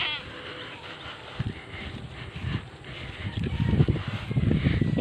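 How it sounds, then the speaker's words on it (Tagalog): Goats bleating in a rural countryside setting, a few short calls over rustling and footsteps outdoors, with a person speaking nearby. "May kambing dito."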